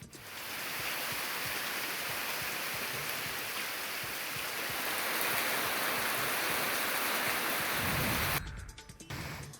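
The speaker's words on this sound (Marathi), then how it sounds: "पावसाची रिपरिप सुरू आहे" Steady monsoon drizzle hisses in a dense, even wash of noise that holds for several seconds before cutting off abruptly near the end.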